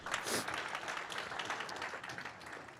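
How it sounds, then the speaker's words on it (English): Applause from an audience at a 2022 graduation ceremony for a business program, a broad steady patter of many hands clapping at moderate distance without speech on top. "Round of applause."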